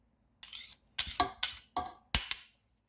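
A spoon clinks against a bowl while chicken is mixed with its marinade of ginger garlic paste: five sharp, close knocks with brief gaps between them, on a quiet background.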